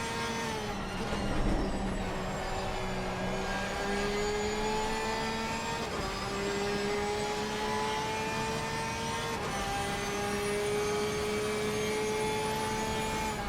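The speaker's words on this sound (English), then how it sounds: "what a beautiful sounding engine that is" A GT3 race car engine at Brands Hatch in a sim racing game, a loud, sustained whine that rises through the gears with brief shift dips every few seconds, heard alone and close.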